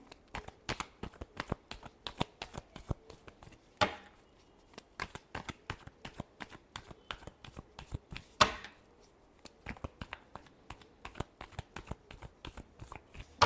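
Tarot cards are shuffled by hand in a steady run of quick, soft riffling slaps with a couple of sharper snaps, close and fairly quiet, with no voice.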